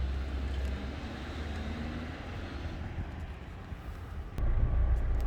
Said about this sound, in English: Okay, so I have now turned on the engine, sitting inside the car right now.